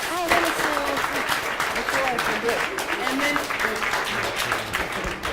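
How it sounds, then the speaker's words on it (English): A round table audience applauds the panelists, a steady wash of clapping filling the room while a voice talks over it. "So if we could just give all of us a big round of applause"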